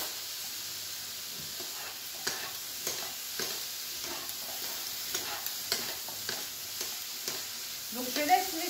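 Fruits caramelize with whole cane sugar in a frying pan, giving a soft, continuous sizzle with scattered stirring clicks and scrapes, fairly quiet and close.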